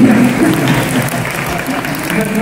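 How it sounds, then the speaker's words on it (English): An audience at a Wiggles children's show claps loudly and steadily in a dense, continuous wash of applause, with faint crowd voices underneath. "Give a big clap, everybody."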